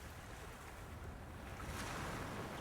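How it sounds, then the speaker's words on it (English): Water in Secret Files 2 is poured away in a steady, soft, rushing splash that runs unbroken and fairly quiet, with no voices. "But I'll pour away some of this water first."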